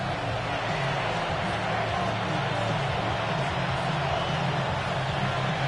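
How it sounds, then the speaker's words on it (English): Steady stadium crowd roar in a Madden 26 American football video game, a dense continuous wash of cheering and racket at a constant loud level throughout, with no distinct voices standing out. "Well, this crowd doing their best to make a lot of racket."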